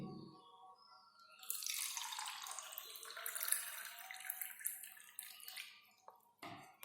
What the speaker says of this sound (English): We are taking water in this bottle.